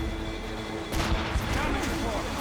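Ship cannons fire in a naval battle in Assassin's Creed Rogue: a loud, booming volley of rolling blasts that starts abruptly after a quiet moment and continues, with voices faintly under it.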